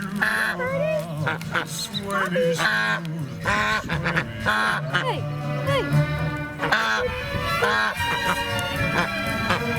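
Ducks quack and honk repeatedly while being fed lettuce at a vineyard and winery, a busy close chorus over music, with voices talking throughout.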